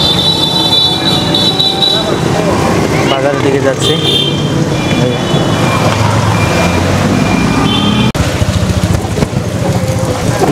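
An auto rickshaw rides through traffic toward the market on a rain-soaked, waterlogged road, with a constant loud engine and road roar and occasional horn toots, while someone talks over it.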